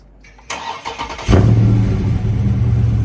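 A Dodge Charger Scat Pack 392 engine cranks briefly with a few clicks, then catches and settles into a steady, loud idle close by.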